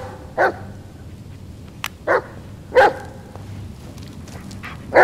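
Dog barking inside the Blair Witch video game: four short, sharp barks spaced a second or so apart, fairly close and clear over a low, murky ambient background.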